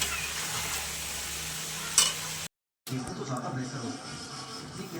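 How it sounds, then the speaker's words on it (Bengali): Kosha mangsho, a Bengali spiced meat dish, is stirred in a pan over a continuous sizzle with scraping strokes and one brief sharp clink, then a short silent gap, with voices in the background. "এক হাতে এটা ধরবো, এক হাতে নাড়াচাড়া করবো"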